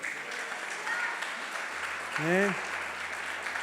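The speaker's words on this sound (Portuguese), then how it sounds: "Você pode aplaudir ao Senhor?" A church congregation applauds during an evangelical sermon, a moderate, steady patter of clapping running beneath a preacher's voice as he speaks over it.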